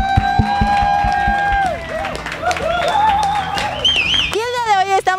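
An audience claps and cheers for a band, a lively burst of applause with whoops and whistles, fairly loud and sustained, shifting into higher excited cries toward the end.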